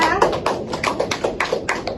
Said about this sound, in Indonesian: tepuk tangan untuk Mbak Esa